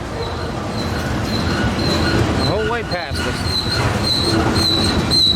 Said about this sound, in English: And he was honking up a storm